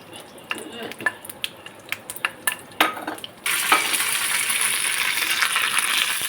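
Oil tempered in a pan with mustard seeds, four green chillies and curry leaves for a gram-flour dhokla. Light clinks and taps come first, then a sudden loud, steady sizzle fills the rest.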